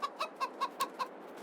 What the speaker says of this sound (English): we have some animated chickens down here